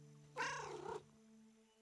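A cat out in the mountains gives a single drawn-out meow close by, with quiet hum around it.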